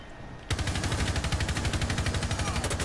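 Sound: gunfire in a video game (Rainbow Six Siege)

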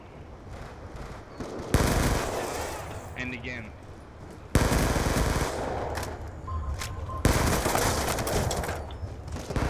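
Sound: automatic gunfire in video game Black Ops 2

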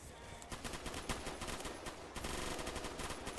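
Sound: SCAR PDW gunfire in video game Roblox Phantom Forces

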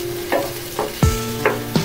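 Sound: vegetables and peas stir-frying in pan

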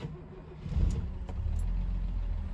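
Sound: Mercedes 280SE car engine starting and idling

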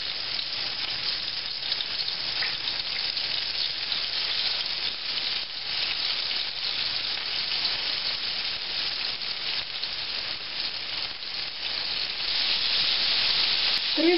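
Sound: breaded pollock fish frying in vegetable oil in a pan

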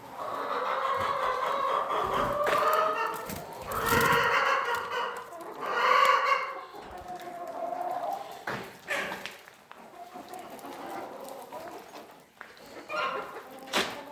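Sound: roosters and chickens clucking

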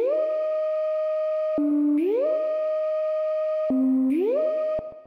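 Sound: sliding sine wave synth sound design on Serum

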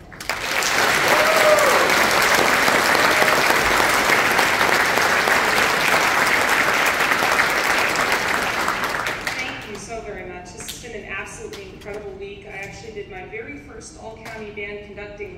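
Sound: audience applause

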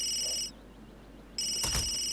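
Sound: phone ringing in The Sims 3 video game

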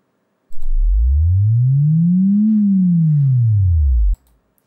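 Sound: synthesized sine wave pitch sweep

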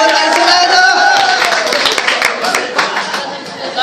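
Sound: audience applause welcoming a ghazal performer

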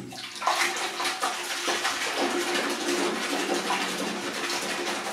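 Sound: water spraying on waxed car for water test

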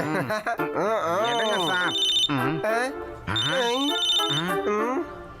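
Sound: telephone ringing in a cartoon

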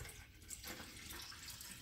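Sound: water poured into Hamilton Beach espresso maker

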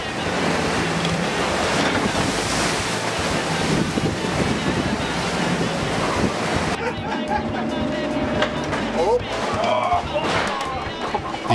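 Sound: 435 hp motorboat running full throttle into storm waves

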